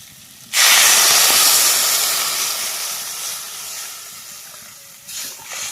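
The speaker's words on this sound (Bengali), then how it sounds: "আলু বন্ধুরা কষানো হয়ে গেছে, জল দিয়ে দিলাম।" Water poured onto sautéed potatoes in a hot pan in a rural Sundarban kitchen bursts into a loud, close hiss that slowly fades, with a brief second flare near the end.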